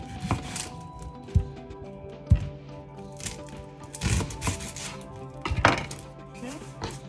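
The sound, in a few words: chopping an onion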